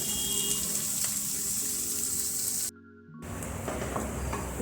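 Onions frying until golden brown for tinda sabzi, a steady hissing sizzle in the pan that cuts out for a moment near the middle, then resumes slightly softer.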